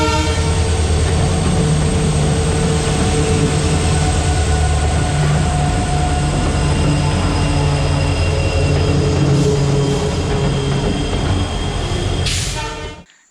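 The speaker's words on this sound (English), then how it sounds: "So there the train comes all the way from Dudsagar" A train runs on the railway line near Dudhsagar waterfall in Goa, loud and close, with a steady heavy rumble of wheels and cars and sustained horn tones, cutting off abruptly at the end.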